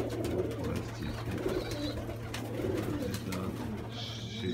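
Soft pigeon cooing drifts through a dovecote where young pigeons are kept, low and fairly faint amid rustling, with a few brief higher chirps near the end.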